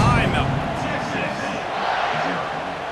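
A stadium crowd in EA Sports College Football 26 roars as a broad, steady swell before a kickoff, with a commentator talking over the crowd.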